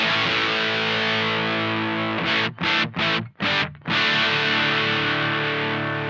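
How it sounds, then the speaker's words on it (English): An electric guitar plays through a Supro Drive overdrive pedal with a fairly crunchy, amp-like tone: sustained distorted chords, broken by a few quick choppy stops before ringing out again, loud and close. "Fairly crunchy amp-like tone."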